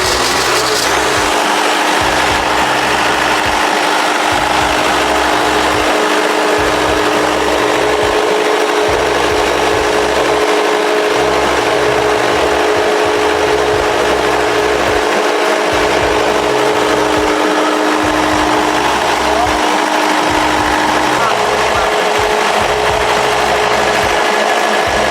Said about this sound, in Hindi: इस ग्रीन बटन के थ्रू अपन इसको पुश करते हैं तो इंजन अपना स्टार्ट होता है